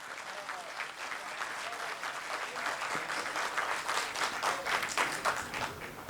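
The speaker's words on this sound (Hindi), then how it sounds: "आपकी तालियां कमज़ोर थी" Steady audience applause at a poetry recital in Azamgarh, many hands clapping together in a dense, sustained wash that swells slightly toward the end.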